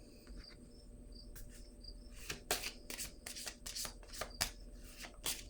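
Tarot cards are shuffled and set down on a table, a brief run of soft rustling, riffling and papery slaps that grows busier toward the end, quiet and close, over a faint steady background hum.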